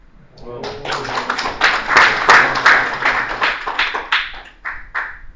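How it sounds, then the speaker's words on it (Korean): An audience applauding during a lecture on law and AI, a dense burst of many hands clapping that swells, holds loudly for several seconds, then thins out near the end. "자, 이것도 좋으면 박수를 부탁합니다."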